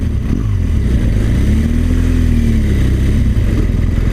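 A BMW R1200GS motorcycle engine pulls steadily in second gear, a loud, close, low boxer-twin drone with a rising whine and wind rush.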